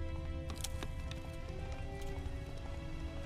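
Hoofbeats of Roach, the horse in The Witcher 3, galloping in a steady rhythmic clip-clop under game music and ambient noise, fairly close and continuous.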